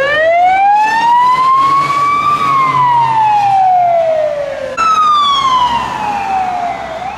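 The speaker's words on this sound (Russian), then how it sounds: "тут две пожарки проехало, еще скорая помощь" Sirens from two fire engines and an ambulance passing on a street in Trakai, Lithuania: loud wailing tones sweep up and down continuously and alone, one siren fading as another takes over.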